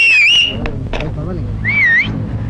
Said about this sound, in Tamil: இது மாமூல் விசில் இல்ல பாப்பா, போலீஸ் விசில்.